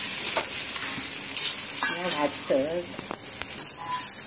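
Whole spices fry in hot oil in a pan for a fish curry masala, a close steady sizzle broken by scraping stir strokes, with brief faint voice-like tones in the middle.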